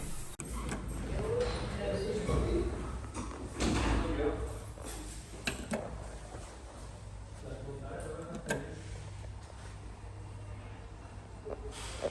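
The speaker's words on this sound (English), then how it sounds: "Doors opening." Doors of an Electra Vitoria machine-room-less lift slide open with a few soft thuds and clunks. A voice speaks over the moderate indoor hum.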